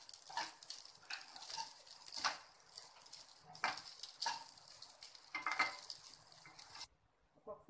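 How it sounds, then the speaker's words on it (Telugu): A spatula stirs cumin fried rice with coriander in a pan, making repeated close scraping sweeps over a light sizzle. The stirring stops shortly before the end, and no one speaks. "కొద్దిగా కొత్తిమీర వేసుకుందాం. ఒకసారి అంతా కలుపుకుందాము."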